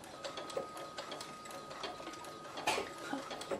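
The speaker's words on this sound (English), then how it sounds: "putting the needle in the fabric, and we're stitching. And don't forget the back tack." A sewing machine runs through fabric for a plushie bat head with short bursts of stitching and a brief reverse back tack, giving a close, quiet mechanical ticking and whirring with small peaks and no talk.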